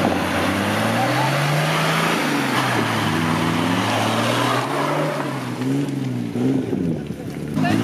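A powerful engine drones loudly and revs, its pitch rising and falling repeatedly, with rushing wind and water noise around it.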